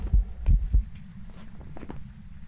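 Three heavy low thumps from a ghost's heartbeat in a ghost-hunting video game, spaced about every third of a second over a faint hum, then fading into quieter low rumbling.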